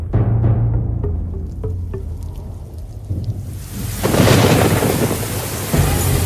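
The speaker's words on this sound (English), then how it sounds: "It seems raining outside." Rain pours steadily with deep rumbles of thunder as a sound effect in a school stage play of King Lear, the downpour swelling louder midway through and continuing with no voices.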